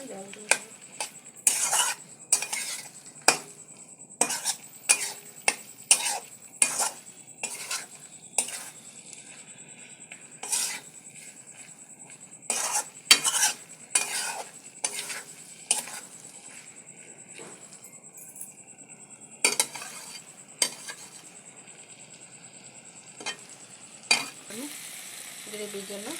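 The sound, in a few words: stirring and sautéing spices in a pan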